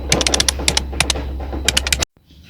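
Keys typed in quick bursts on a keyboard or typewriter as the Indonesian independence proclamation text is written out in a school history drama, loud and close over a steady low hum, stopping abruptly near the end.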